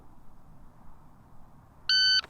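A shot timer at a pistol range gives a single short, loud electronic beep near the end, after a stretch of quiet background hum.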